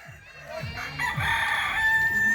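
Neighbor's rooster crows once, a rising and drawn-out call at moderate distance, with clucking chickens and faint voices in the background.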